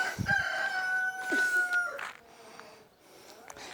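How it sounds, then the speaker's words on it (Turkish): A rooster crows loudly nearby, with a long drawn-out call, amid clucking chickens and farmyard background noise. "Burada da tavukları var"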